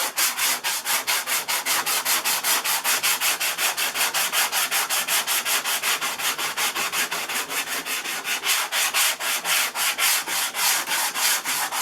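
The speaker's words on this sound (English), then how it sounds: "I let the sandpaper do the work for me. All I'm doing is moving the sandpaper." A sanding block carrying sandpaper is worked by hand over an aircraft fuselage body. It makes a steady, rhythmic rasp of back-and-forth strokes, close and loud, repeating evenly with no voices.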